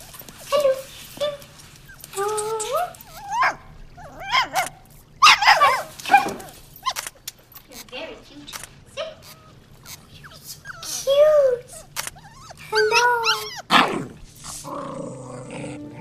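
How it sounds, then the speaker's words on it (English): A puppy barks in short yaps and whimpers in high whines, close by and in irregular bursts across the stretch, with a low steady hum underneath. "It's a puppy!"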